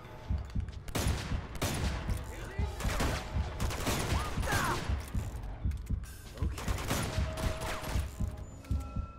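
Bursts of gunfire in the video game Uncharted 2 crackle in rapid clusters, with machine-gun rattles and sharp single shots repeating loudly, and a voice talks between them.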